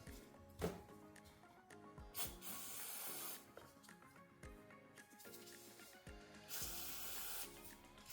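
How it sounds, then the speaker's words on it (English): Cleaner sprayed from an aerosol can onto the MAP sensor of a 2025 Ford Expedition Active 4WD SV with the 3.5L engine. Several sharp hissing bursts come close up, separated by short pauses. "Just kind of spray it in all directions."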